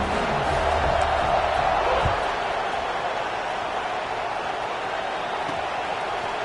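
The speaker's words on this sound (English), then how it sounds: "this crowd is buzzing after that last score" A football video game stadium crowd buzzes steadily after a score in a game against Kansas, a dense, even roar filling the whole stretch with a thud near the middle.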